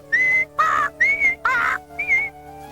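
A voice whistles in five short, clear bursts, imitating the squawking whistle of a bird in a 1988 Berenstain Bears cartoon. The whistles are close and bright, with no talk.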